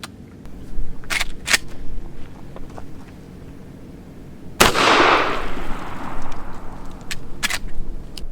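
A Henry Brass Axe .410 lever-action pistol fires a Hornady Critical Defense triple-defense buckshot load: one sharp, loud report at mid-clip with a long decaying tail, surrounded by quieter outdoor clicks and handling noise.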